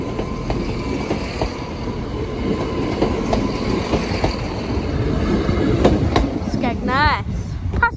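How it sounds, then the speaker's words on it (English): A passenger train passing the Sleaford east level crossing, a loud close rumble of wheels with rhythmic clicks over rail joints and a brief rising squeal, under faint talk. "even though it's a passenger train"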